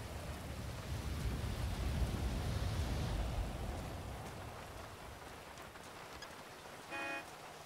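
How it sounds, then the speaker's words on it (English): Heavy pouring rain in a GTA V roleplay game, a dense steady hiss of rainfall near and fairly loud, swelling in the first half then easing, with a short horn-like toot near the end. "Still pouring fucking rain right now."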